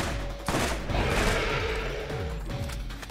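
Gunfire in the video game Borderlands during a mission fight, a dense, continuous rattle of shots with crashes and thumps, with no voices.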